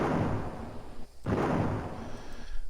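Heavy blasts from polygon gun turrets in an Unreal Engine 4 game, two long booming bursts with rumbling tails separated by a brief pause, loud and close.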